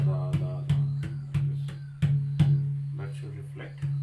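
Mridanga drum struck with repeated da strokes, about nine sharp, evenly spaced hits over a sustained ringing tone, close and clear.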